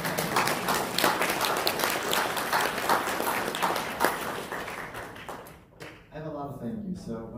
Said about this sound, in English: Let's give them a round of applause, all of them.